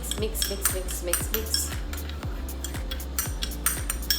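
A spoon mixes food in a bowl, rhythmic scraping strokes and metallic clinks against the bowl repeating roughly twice a second, close and clear with no talking.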